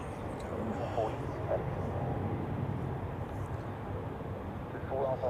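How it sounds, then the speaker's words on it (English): A Swiss Airbus A220 on runway 32 at Zurich Airport rumbles in a low, steady drone at a distance, with faint outdoor background noise during a storm. "On runway 32, we have an A220 of Swiss off to Warsaw"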